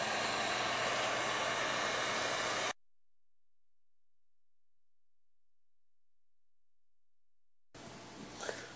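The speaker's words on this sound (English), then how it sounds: "Hopefully we can do that with a heat gun." A heat gun blows a steady, loud rush of hot air over a fuel pump line during an in-tank fuel pump install, cutting out to silence for several seconds before resuming with faint handling noises.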